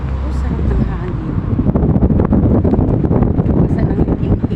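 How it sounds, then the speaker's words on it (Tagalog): Strong wind blows outdoors, heavy and continuous buffeting on the microphone, loud and steady throughout with no other clear sound. "Oh, sarap ng hangin."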